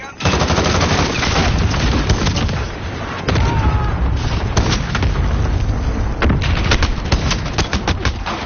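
Video game combat with rapid machine-gun bursts and heavy booming cluster strike explosions, loud and continuous, with crackling shots layered over deep blasts throughout.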